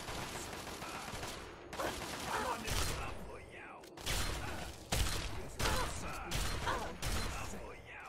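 Point-blank gunshots in Fallout 3's Operation Anchorage land as a series of sharp, loud bursts about once a second, with mechanical clatter between them and a voice talking over the action.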